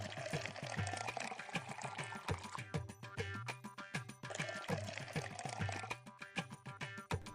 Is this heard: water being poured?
yes